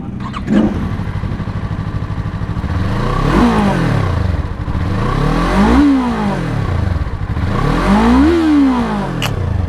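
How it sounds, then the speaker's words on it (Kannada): Yamaha R3 inline-two motorcycle engine starting up and revving; a loud, steady idle broken by three rising and falling throttle blips, close by with no talking. "inline to sound"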